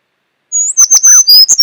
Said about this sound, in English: And this is the sound of a sparrow.